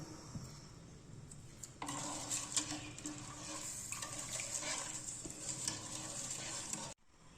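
Sheer khurma with sugar stirred in a pot over low heat makes faint, continuous scraping and soft bubbling sounds from the spoon, with no voices.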